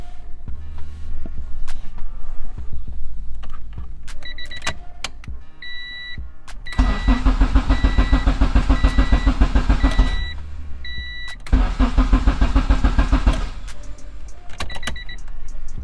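Car engine cranking repeatedly without starting after a hidden kill switch is flipped and its fuse blows; two loud rhythmic cranking bursts separated by a pause, with dashboard warning chimes and clicks in between, recorded close inside the cabin.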